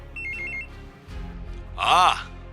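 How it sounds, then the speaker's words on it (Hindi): A phone rings in a dramatic Hindi serial scene: a short, repeated electronic ringtone burst, then a louder ringing chime, with a voice speaking between them. "विकी का फोन बजा"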